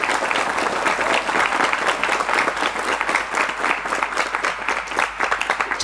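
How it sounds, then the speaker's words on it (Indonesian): A lecture audience applauds steadily for Miftahul Ulum, a village school in Sungai Bemban, with dense, continuous clapping that holds at an even level for several seconds without any talk. "Tepuk tangan untuk Miftahul Ulum."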